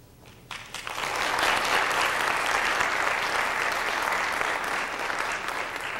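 An audience at a high school band concert breaks into applause, building within a second into dense, steady clapping that carries on loudly throughout.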